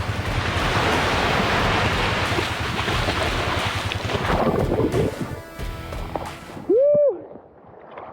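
Ocean waves and surf churn loudly in the North Atlantic off Newfoundland, with heavy wind buffeting and spray noise, then fading near the end.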